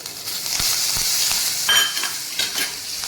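Curry leaves and chillies frying in hot oil with urad and chana dal for a South Indian dish, a steady loud sizzle with bursts of spattering and occasional stirring scrapes.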